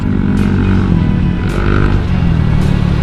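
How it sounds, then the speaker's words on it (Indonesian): Exhaust of a 2017 Honda Vario 125 eSP scooter-style motorcycle, a loud, steady engine drone held close to the microphone with slight swells as the throttle is worked, no talk. "Suara knalpotnya cocok buat geber-geber"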